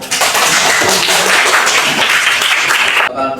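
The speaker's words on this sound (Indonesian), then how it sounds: "Baik, berikan tepuk tangan." Classroom applause from students in a school lesson: a loud burst of many hands clapping together, close and continuous for about three seconds before stopping abruptly.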